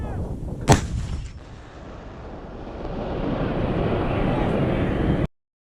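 Russian artillery fires on Ukrainian positions: a single loud, sharp blast rolls out into a long, fading rumble with wind noise across the microphone.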